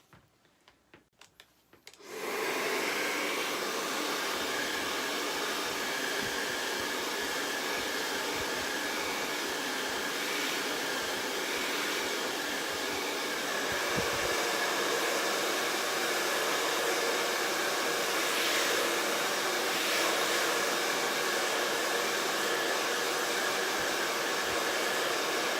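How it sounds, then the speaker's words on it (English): A blow dryer starts up and roars steadily for a long stretch while drying painted craft pumpkins, a loud continuous whooshing hiss with slight shifts in tone as it moves. "I'm going to hit it with a blow dryer and then we'll add the stems."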